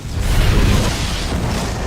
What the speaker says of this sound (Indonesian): Bom pun kemudian meledak dan Victor akhirnya modiar.